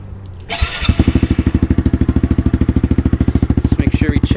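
A 2021 Honda CRF110 dirt bike with a Yoshimura exhaust fires up and settles into a fast, even idle, its close, loud rapid pulses of exhaust beats running steadily after a brief starting burst.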